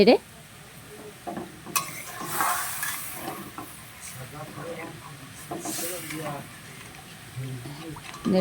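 A ladle stirring tilapia fish curry in a pan after water is poured in, with bubbling sizzle and hiss and scraping strokes, close and moderate, while someone talks throughout.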